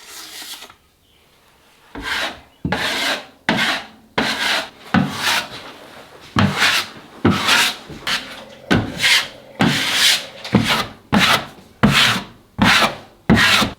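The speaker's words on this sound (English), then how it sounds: "The sander is going too fast and it's not adjustable, so it's kind of like just ripping it little by little" Dried drywall compound is sanded in repeated back-and-forth strokes, a close, loud, rhythmic rasping, about a dozen even bursts separated by short pauses, with no talk.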